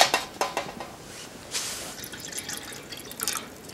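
Water runs and splashes into a camping pot set over an alcohol stove on a small grill outdoors, a steady faint trickle with scattered metallic clinks and drips throughout.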